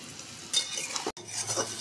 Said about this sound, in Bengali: আমি পেঁয়াজ, রসুন, আদা ছেঁচা ভালো করে কষিয়ে নিব।